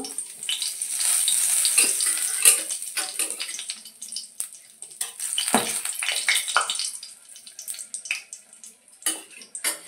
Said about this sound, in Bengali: প্রথমে গোটা শুকনো লঙ্কা দিয়ে দেব।